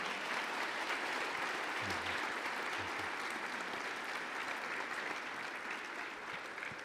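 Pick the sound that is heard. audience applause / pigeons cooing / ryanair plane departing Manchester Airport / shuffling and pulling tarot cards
audience applause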